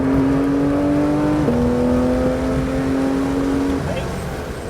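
A Porsche 911 GT3 RS engine drones at high revs on a race track, a loud sustained tone stepping through a gear change, with an instructor's voice over it.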